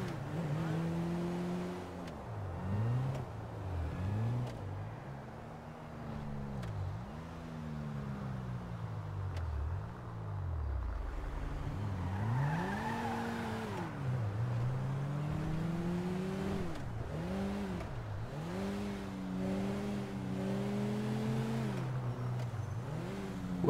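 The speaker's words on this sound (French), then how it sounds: "Wesh, y a beaucoup de circulation là." Car engines in busy road traffic in Grand Theft Auto V rev up and down in repeated rising and falling sweeps, one car after another, with a steady rumble and tire noise underneath.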